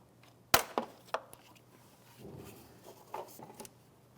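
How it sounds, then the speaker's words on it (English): Cutters trimming a plastic zip tie flush during starter work on a 2011-2016 Hyundai Elantra, one crisp sharp snip followed by a couple of lighter clicks and soft handling sounds. "now we can trim our wire tie flush"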